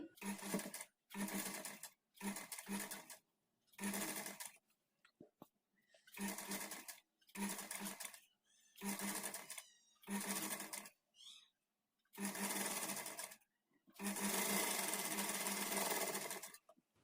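A sewing machine stitches blouse sleeves onto the body at a half-inch margin, running in repeated short bursts of rapid whirring separated by pauses, with a longer final run.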